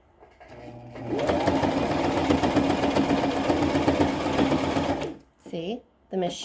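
A sewing machine runs steadily for about four seconds, stitching across the middle of folded, pinned fabric for a homemade mask, near the hem, with a dense mechanical whir that stops before a few short voiced sounds.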